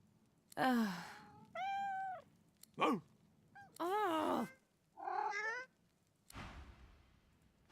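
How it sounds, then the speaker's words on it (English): A cat and a dog argue in the video game Divinity Original Sin 2, trading a series of distinct meows and yowls with gaps between them, loud and close, ending in a breathy sigh-like exhale. "The cat and the dog appear to be arguing."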